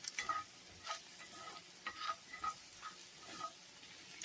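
Bacon grease sizzles softly in a pan for a salad, a quiet frying hiss broken by regular stirring scrapes and light clinks, with no voices.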